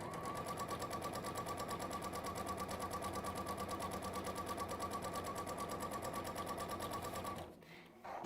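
A sewing machine stitching textile runs in a fast, even mechanical rattle for about seven seconds, close and steady, then stops abruptly with a brief pause and small knock.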